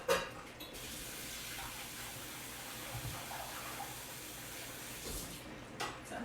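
Clams being rinsed and strained under running water from a kitchen tap, a steady close wash of water running throughout with small splashes at the start and near the end.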